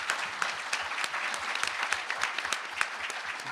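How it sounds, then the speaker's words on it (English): A panel audience claps steadily, a brisk patter of many hands with individual claps standing out, continuing evenly throughout. "Let's give a round of applause to this amazing panel."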